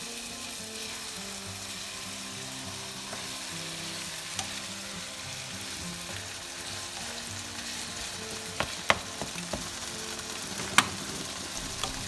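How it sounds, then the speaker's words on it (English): Ground beef browns with diced onions, salt, pepper and Italian seasoning in a pan, giving a steady close sizzle and fry that runs throughout, broken by a few sharp clicks of utensils scraping and stirring near the end. "Brown 1 pound ground beef, add salt, pepper, a teaspoon of Italian seasoning, and a 1/2 cup of diced onions."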